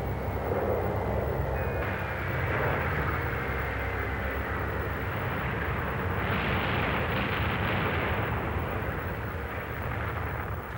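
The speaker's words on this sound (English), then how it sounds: "bombers reach their target and drop their load." World War II bombers roar overhead in a steady, dense drone of piston engines, with rumbling bomb blasts blending into the continuous low noise, loud and unbroken throughout.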